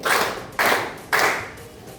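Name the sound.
hand clapping in a classroom clapping game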